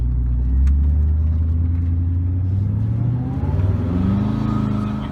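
A Koenigsegg Regera's engine revs from inside the car as the clutch slips to raise RPM, a loud, deep, smooth drone that climbs and shifts in pitch continuously, with no voices.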